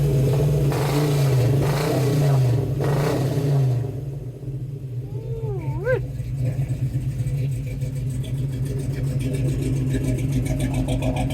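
An LS3 V8 in a 1957 Chevrolet 3100 Big Window restomod pickup idles with a lumpy, loud, close rumble, rising in a few short revs at the start before settling into a steady throb, with a voice speaking briefly over it.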